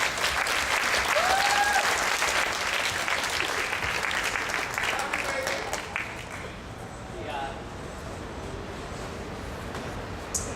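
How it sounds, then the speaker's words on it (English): A conference audience in Kiev breaks into sustained, dense applause for a speaker taking the stage, with a faint whistle early on; the clapping thins and fades over the last few seconds. "So let's give him a warm applause and welcome to the stage."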